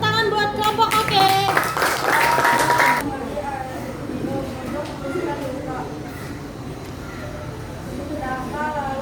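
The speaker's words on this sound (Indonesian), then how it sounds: "Baik, tepuk tangan buat kelompok oke." A classroom of students claps for a group after its presentation in an Indonesian lesson, a dense burst of hand claps lasting about three seconds before a teacher's voice carries on talking over a quieter room.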